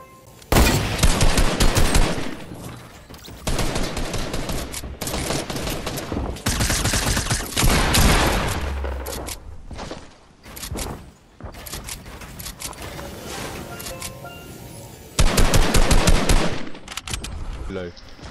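Bursts of rapid automatic gunfire in the Fortnite video game rattle loudly in several long volleys separated by brief pauses, with game effects and players talking in between.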